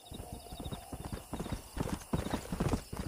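In a Red Dead Redemption scene, a stallion's hooves clip-clop in a steady trotting rhythm, close and distinct, while a whinny rises partway through.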